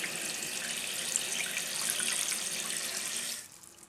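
Water rushing steadily into a 1.6-gallon toilet tank as it refills after a flush, a close, even hiss of flowing water that cuts off sharply near the end as the fill valve shuts.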